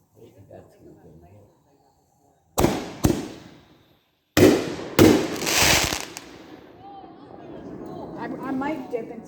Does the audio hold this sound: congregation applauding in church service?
no